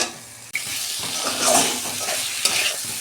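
Kohlrabi and potatoes sautéing in spiced oil, with a loud close sizzle and busy stirring scrapes that swell midway, plus a sharp clack as the vegetables land.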